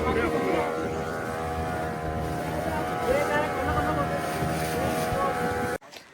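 A motorboat cruises on the sea near Nivati in Vengurla, with a steady engine drone and wind rushing over the microphone throughout. The sound cuts off abruptly near the end, and people talk over it.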